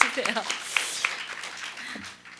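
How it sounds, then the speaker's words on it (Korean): A church congregation applauds for the pastor, a brief patter of clapping heard under someone speaking over it. "우리 목사님께 박수 한번 보내주세요."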